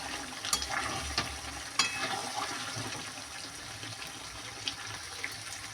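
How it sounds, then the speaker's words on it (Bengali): Marinated duck meat sautéed (kosha) in a pan until the gravy dries, giving a steady close sizzle broken by irregular scraping stirs, with no talking. "তবে আমি আরো একটু কষাবো যাতে ঝোলটা শুকে যায়"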